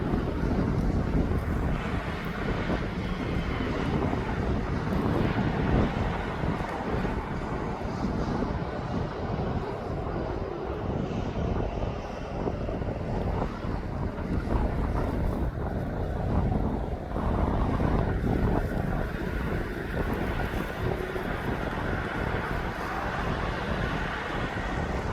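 Ryanair airliner taxiing at East Midlands Airport, a continuous broad jet engine roar mixed with wind buffeting on the microphone, steady and fairly loud throughout without any talk.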